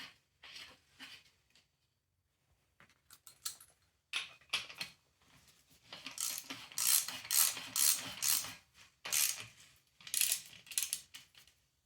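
A ratchet tightens the drain cap on a Honda CB350 engine during a rebuild, with bursts of rapid close clicking from the pawl, quiet at first then louder, separated by short silent pauses.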